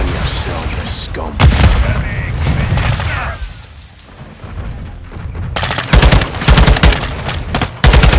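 Truck charge exploding in Call of Duty Modern Warfare II: a loud close boom with heavy rumble, then bursts of rapid machine-gun fire, with voices talking over the action.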